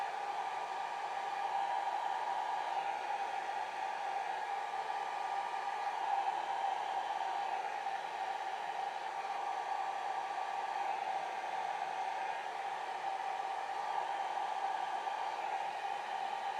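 A hair dryer blows steadily over an alcohol ink rose painting, a constant whirring hiss held close and unchanging throughout, with no talking.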